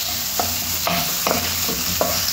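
Leftover beef is stir-fried in a pan. Four distinct spatula scrapes ring out over a constant loud sizzle, close by and with no talking.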